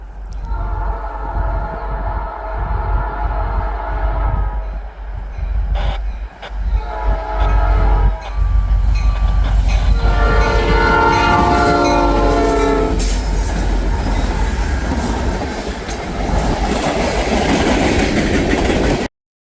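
Canadian National freight train M396 led by CN 8952, a Grand Trunk Western heritage locomotive, passing on the CN line near Tonti, Illinois, with a loud multi-chord horn blaring over heavy, close rumbling wheels and cars.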